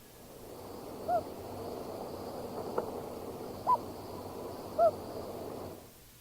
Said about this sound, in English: The hoot.